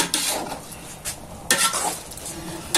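Close-up spoon scraping and stirring in a pan of chopped tomatoes and peppers for a menemen-style dish, with a light sizzle underneath and a few sharper metal scrapes.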